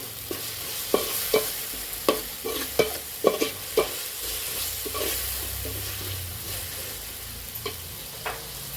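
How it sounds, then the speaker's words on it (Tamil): Garam masala and ground biryani masala sautéing in a pan for fish biryani, with a steady low sizzle broken by scraping spoon strokes that come roughly every second. "இந்த மசாலாலாம் நல்லா வேகணுன்ட்டு நல்லா வதக்கிக்கலாம்."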